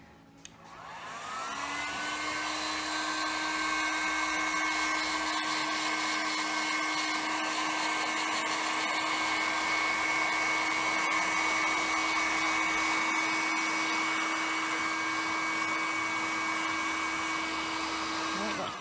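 Heat gun warming WoodUBend trim on a vintage dresser, switching on and then blowing a loud, steady whining roar with a constant tone, running alone without pause.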